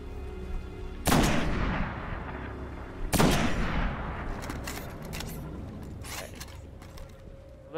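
Gunfire in the video game Destiny: two heavy, booming shots about two seconds apart, each with a long rumbling decay, followed by fainter sharp reports and mechanical clicks.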